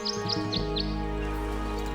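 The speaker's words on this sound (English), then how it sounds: "Yeah, the birdsong." A short birdsong tune from the video game Tangle Tower plays as four quick rising chirps over a sustained musical drone, followed by a held tone.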